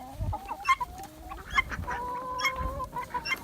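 Chickens clucking close by at a backyard farm, a string of short, varied clucks and squawks with no talking.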